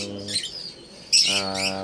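African lovebirds chirp in two short bursts of bright, shrill calls separated by a brief pause, close and clear, with no talk.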